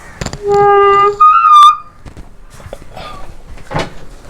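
A heavy old wooden palace door swings open with a loud, drawn-out creaking groan in a tonal whine, then gives way to quieter scraping and knocks.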